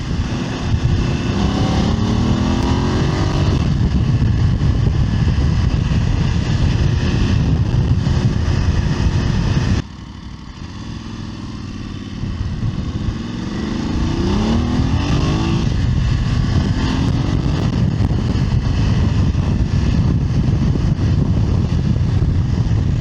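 A Voge DS900X motorcycle with a Scorpion carbon fibre exhaust, baffle in, roars along at speed, engine note rising and falling through gear changes, with heavy wind rush and a brief dip in loudness midway.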